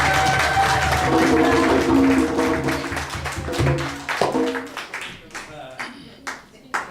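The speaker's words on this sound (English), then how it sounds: "Can we give her another round of applause, please?" An audience claps and applauds, a dense burst of clapping that gradually thins into scattered claps, with a voice speaking over the start.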